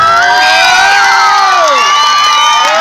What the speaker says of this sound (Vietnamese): Biết bài hát gì mà vỗ tay